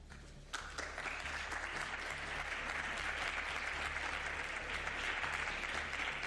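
Supporters applaud Spanish Prime Minister Pedro Sánchez at his press appearance, a soft, distant, continuous patter of many hands clapping that holds steady throughout.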